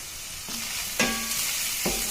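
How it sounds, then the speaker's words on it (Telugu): Onions fry in a pan with turmeric and salt, giving a constant sizzle broken by a few quick scrapes of stirring, close and moderately quiet. "పసుపు సాల్ట్ వేసాక ఇంకొంచెం సేపు ఫ్రై చేసుకోవాలండి."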